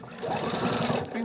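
A domestic sewing machine runs steadily for about a second, finishing with a fixed stitch on a small fabric baby gift made from scraps; a continuous close mechanical whir with rapid needle rhythm.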